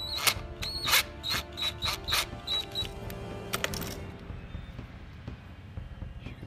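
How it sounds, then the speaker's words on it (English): A screw turned into the center hole of a cap for a homemade CO2 mortar cannon, making a run of close, sharp ratcheting clicks and scrapes that give way to a quieter rumble. "Now we're going to screw in the screw into the center cap."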